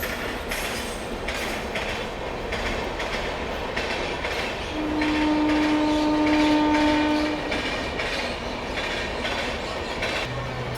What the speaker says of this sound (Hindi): गजब की हॉन्किंग में आ रही है कोई तो ट्रेन, देखो वहाँ से आ रही है।